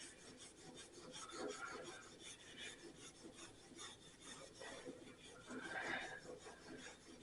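Fine sandpaper works scratches out of the painted body of a Corvair by hand. Quiet, rapid, rhythmic rasping strokes repeat steadily at close range.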